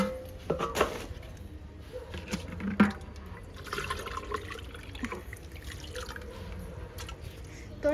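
Water runs from a tap into a bucket in a home, a soft, steady splashing and trickle with a few louder drips and knocks, fairly faint throughout.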